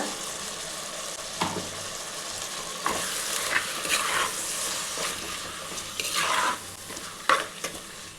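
Onion and ginger-garlic paste sauté with mutton pieces in a pan for mutton curry, a steady low sizzle under repeated scraping stirs of a spoon, with several louder clacks toward the end.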